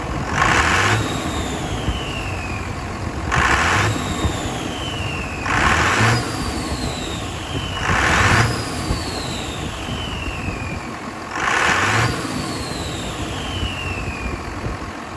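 A rebuilt turbocharger spins on a running car engine with its cover off. Five evenly spaced revs each bring a rising rush and a high whine that glides down as the turbo spools back, over a steady idle between.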